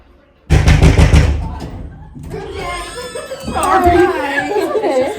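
Rapid burst of knocks on a hotel room door during a room check, loud and close, followed by people chattering and laughing nearby.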